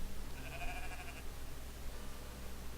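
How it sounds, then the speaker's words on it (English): Sheep bleating in the video game Moirai: one wavering bleat, fairly faint, over steady background noise, then quiet ambience. "Let's poke it. Not a healthy sheep."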